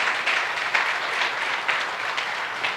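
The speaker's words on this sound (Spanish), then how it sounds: "dando un aplauso a Cristo" Church congregation applauding during a sermon, a continuous crowd of clapping hands with a few sharper claps standing out.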